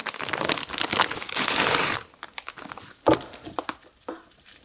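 A package of sushi seaweed sheets crinkles and rustles up close in a home kitchen, a loud continuous crackle for two seconds followed by scattered sharper crinkles and handling taps.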